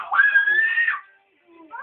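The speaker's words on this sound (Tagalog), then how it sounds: "huwag ka na sumigaw-sigaw" A young boy screams in one loud, sustained, high-pitched burst lasting nearly a second, then breaks off into a brief pause before a shorter, softer whimpering cry.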